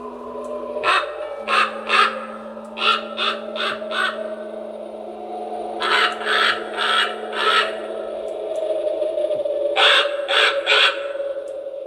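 A large motion and sound activated Halloween crow prop caws in rapid bursts of three to four harsh, raspy calls, repeated in several clusters over a continuous low electronic hum.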